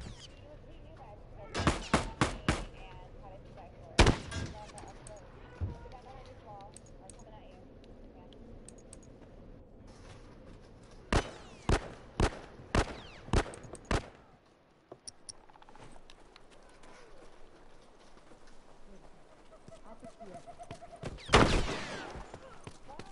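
Sharp bursts of gunfire, several shots in quick runs, come from The Last of Us multiplayer video game, with quieter game sounds between them and a player talking now and then.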